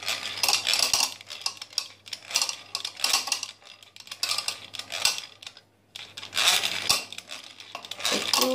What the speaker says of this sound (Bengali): ভিতরে তেল দিবেন একটু একটু করে তেল তেল দিতে হবে আর বিট করতে হবে